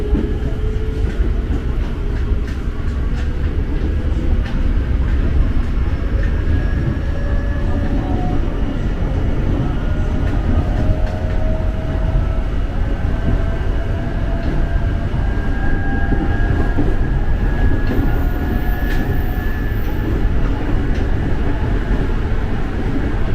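A KRL commuter train running at speed, a loud, steady rumble of wheels on track heard from inside the car, with rising whines from the motors and occasional clacks, continuous throughout.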